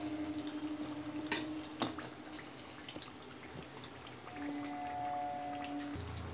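Nimki pastries frying in hot oil in a pan, a soft, steady crackle of bubbling with a few sharper pops early on, fairly quiet and close, with no talking over it.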